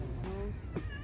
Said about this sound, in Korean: 이거 길고양이가 아닌 것 같은데?